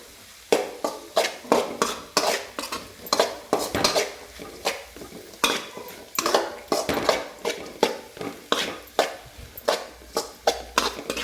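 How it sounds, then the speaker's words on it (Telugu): A spoon stirring carrot fry mixed with rock salt and chili powder in a metal pan, a long run of sharp, evenly spaced clinks and scrapes against the pan, close and clear with no talk. "ఈ మిశ్రమాన్ని ఇందులో వేసేసుకొని కొంచెం బాగా కలుపుకున్నాము ఇలా బాగా కలుపుకోవాలి"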